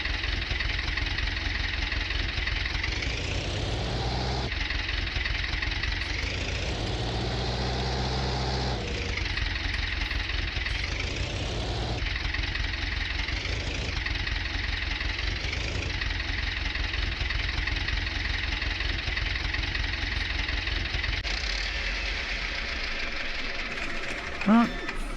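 Tractor engine idling in Farming Simulator 19, a steady, continuous low rumble running throughout, with a voice talking over it.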